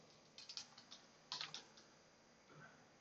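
Fingers tap a computer keyboard in short irregular bursts of faint clicks, quiet and close, with a pause before a few last keystrokes.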